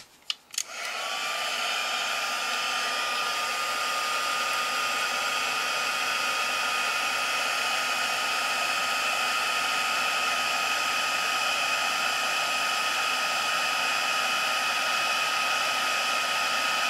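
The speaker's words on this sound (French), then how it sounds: "Donc maintenant, je vais chauffer ma poudre." An embossing heat tool melting powder on a handmade card clicks on, then blows a steady, loud whirring hiss with a high whine that continues unbroken and close.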